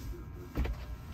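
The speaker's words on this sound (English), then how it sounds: "I'm going to roll down the window" A Tesla's electric window motor whirring briefly as the glass rolls down, quiet and close, with a slightly stronger burst midway through the short run.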